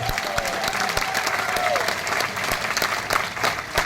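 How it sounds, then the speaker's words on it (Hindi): Audience applause at a motivational talk by an RCM speaker, a dense, steady wash of many hands clapping close by, with a faint whistle-like tone and a few cheers mixed in. "अपने लिए जोरदार तालियां बजा लीजिए"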